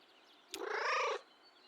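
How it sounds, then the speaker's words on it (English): A single short, raspy, excited cat meow in the video game Kentucky Route Zero, slightly strained and close, rising out of quiet background hiss and cutting off abruptly. "Excited meow."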